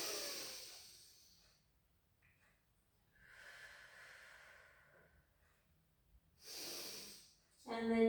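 A deep inhalation during a pilates session, a soft breathy rush drawn in over a couple of seconds, with an instructor speaking around it and breathy sounds at either end.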